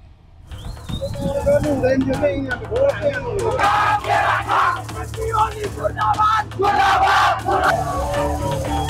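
Protesters in Kathmandu, Nepal clash with riot police while marching toward the parliament building, throwing objects; a large crowd roars and yells continuously at close range, voices rising and surging in waves.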